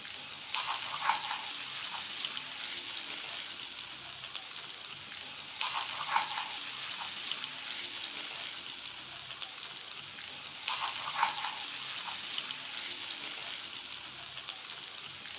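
Tomato ketchup is stirred into chicken manchurian in a pan, giving a soft continuous sizzle with three recurring bursts of scraping and stirring, fairly quiet and without talk.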